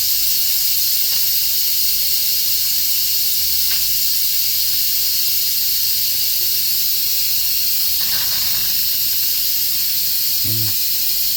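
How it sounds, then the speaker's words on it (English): An Instant Pot vents its steam pressure with a loud, steady hiss that runs unbroken from start to finish, with a few faint clicks and rattles beneath it. "The pressure will be released, and then we'll be able to take the lid off safely."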